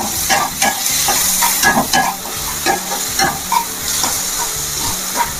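Potatoes and onions are stirred in a sizzling frying pan for a dalma dish, with repeated rhythmic scraping strokes of the spoon over a constant close hiss of frying and no speech.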